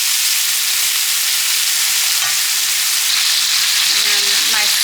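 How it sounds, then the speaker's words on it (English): Butter hitting a hot pan beside seared steaks gives a loud, dense, continuous sizzle, close and steady for a few seconds, with faint clinks near the end. "Next, I want to add my butter."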